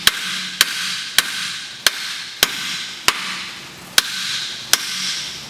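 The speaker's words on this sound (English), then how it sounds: "you're going to want to finish it off with a 3-pound sledgehammer" Nine sharp metallic hammer blows from a 3-pound sledgehammer driving a VW MK4 steering knuckle onto its strut, spaced at a steady, even rhythm, loud and close with no talking.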